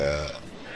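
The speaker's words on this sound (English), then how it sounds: "I told myself I wasn't gonna belch on the mic anymore." A loud, drawn-out belch right at the mic during a Smash Bros tournament commentary stream, low and gurgling at first, then trailing off into rougher, breathier noise.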